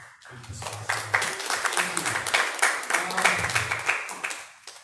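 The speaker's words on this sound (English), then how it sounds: "So a big round of applause kay Mark and kay Tino" An audience at a university design class event applauds, a dense burst of clapping swelling after a spoken introduction, holding for a few seconds and then fading, with a voice faintly beneath it.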